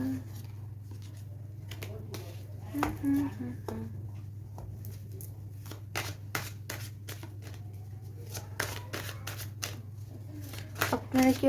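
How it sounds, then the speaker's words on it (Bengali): Tarot cards falling and being shuffled: a run of crisp, papery snaps and riffles scattered through the clip, with sharper bursts near the start and end, over a constant low hum. "বাহ, সব কার্ড পড়ে যাচ্ছে"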